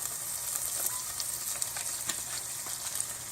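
Butter and olive oil sizzle steadily in a pot, a soft, even frying hiss with faint crackles throughout, close but fairly quiet.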